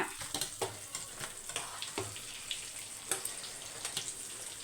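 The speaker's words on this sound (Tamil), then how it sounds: "கொஞ்சமாக எண்ணெய் ஊற்றி பொறிப்பேன்" A small amount of oil frying in a pan while cooking a Tamil home meal, with soft steady sizzling, irregular stirring clatters and scrapes, fairly quiet and close, no voices.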